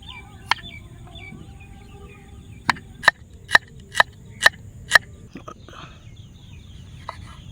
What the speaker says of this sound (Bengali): স্যালাডের জন্য পেঁয়াজটা কাটি